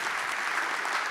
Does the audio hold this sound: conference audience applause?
yes